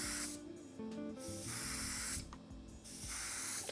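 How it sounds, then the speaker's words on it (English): Bursts of fine hissing paint spray from a Colani airbrush with a thick needle, about three short blasts separated by brief pauses, close and steady. "Good thing I can spray, let's say, kind of narrow way,"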